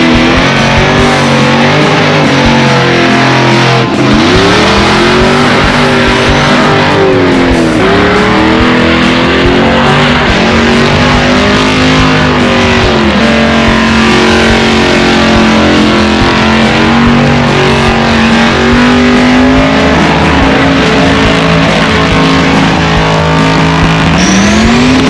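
A burnout car engine at a burnout competition revs hard and loud for a long stretch, pitch climbing and dropping repeatedly with gear shifts, roaring continuously at close range.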